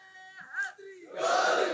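At a religious gathering, a lead voice calls out a slogan and a large crowd answers with a loud, brief unified chant that swells over the last half second.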